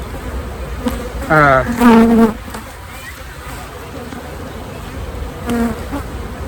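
Honeybees buzz constantly and close by while a hive is opened for its first inspection of the year. A brief voice-like sound rises above the swarm partway through.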